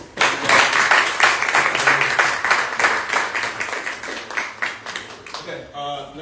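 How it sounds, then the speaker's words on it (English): Audience at a homebuying seminar applauds steadily with dense clapping for several seconds, fading out near the end. "Another round of applause, please."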